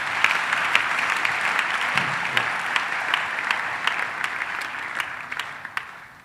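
A church congregation applauds in a steady, dense wash of clapping lasting several seconds, with a few sharper claps standing out before it tapers off at the end.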